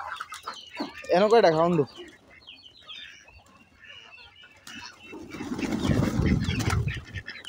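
Farmyard chickens being fed cluck and call nearby, then a burst of wing flapping and scrambling, with a person speaking briefly over them.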